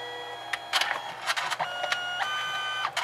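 A Canon Selphy C910 compact photo printer feeding paper through for another color pass, a steady whirring hum broken by several quick mechanical clicks and ratchets, close by and alone.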